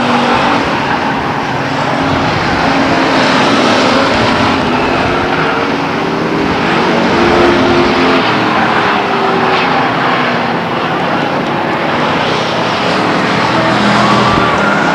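Race cars at Stockton 99 Speedway in a 1999 race roar continuously and loudly, a dense overlapping engine drone with swelling passes that never lets up for the full stretch.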